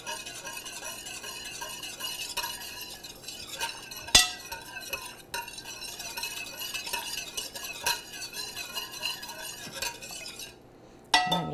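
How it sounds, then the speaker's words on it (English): Whisk stirring balsamic vinegar dressing around the bottom of a mixing bowl, a steady scraping swirl with occasional light clinks, fairly close and moderately quiet with no talk. "We're going to whisk that around just a minute."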